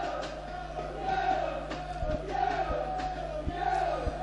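A football crowd at a Gloucester City non-league match rumbles with a steady, building roar of voices and shouts in anticipation, with distant thuds and a low hum beneath it.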